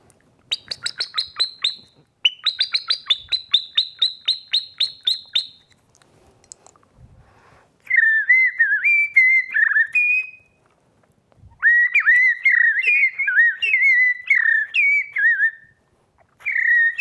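A person whistles an imitation of blackbird song: rapid chirpy trills first, then mellow fluting warbled phrases with short pauses between them.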